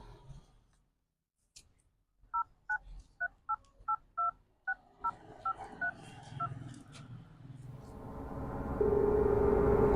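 Touch-tone phone keypad dialing a number again: a quick run of about ten distinct DTMF beeps in steady rhythm, close and clear, followed by a rising hum and a steady line tone as the call connects.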